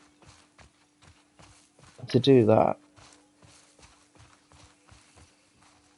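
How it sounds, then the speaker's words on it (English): Horse hooves in The Last of Us Part II clop in a steady, evenly spaced walking rhythm throughout, moderately near, with a short burst of speech cutting over them partway through. "I didn't know you could get off the horse"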